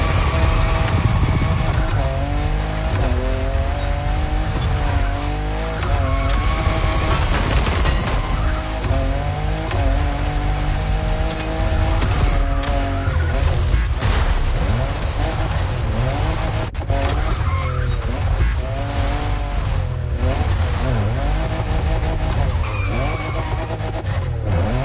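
A fifth-generation Toyota Supra driving in the video game The Crew Motorfest, its engine revving up and down through gear changes with tire squeals, loud and continuous, with music or talk layered over it.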